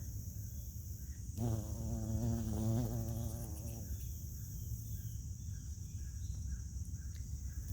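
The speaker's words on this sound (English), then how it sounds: "Look at all the bees." Bees hum close by around blooming Confederate rose flowers for a couple of seconds over steady outdoor garden background noise, then drift off.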